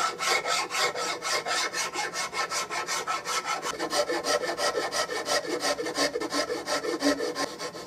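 Sandpaper rubbed back and forth on a wooden Winchester Model 100 rifle stock during restoration, a close, steady rasping scrub in quick even strokes, with no talk.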